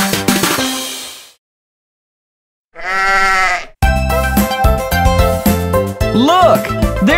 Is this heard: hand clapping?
no